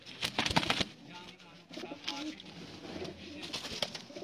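A male Teddy pigeon coos in short throaty bursts amid sharp flapping and scuffling noises, close by, with other birds and some indistinct voices in the background.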